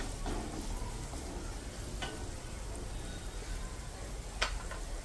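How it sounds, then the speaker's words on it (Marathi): Onion frying in a pan for Maharashtrian-style vermicelli upma, giving a steady broadband sizzle throughout with a few brief utensil clicks and scrapes, moderately quiet and with no talking. "कांदा छान लाल असं भाजू द्या"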